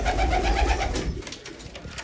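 A pigeon coos softly a few times at close range, low throaty calls fading into quiet room hiss.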